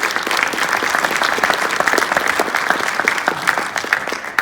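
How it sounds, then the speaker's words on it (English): A strong, sustained round of applause from a seminar audience at Dublin Scioto High, dense clapping from many hands that stays loud and close throughout. "So I'd like to give them a round of applause."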